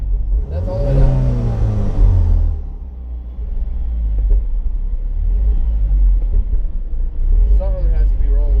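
A cheap Cadillac with a suspected throttle or idle sensor fault revving with the pedal pressed fully down, a rising engine roar that falls back to a low steady rumble, with people talking over it.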